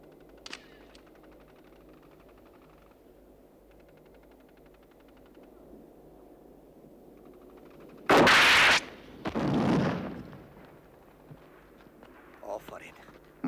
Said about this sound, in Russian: Дайте ему гранатомет. Иди стреляй.